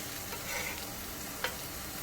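Uttapam batter fries in a hot pan with a soft, steady sizzle running through the whole stretch, low and close, broken by one brief sharp tick near the end.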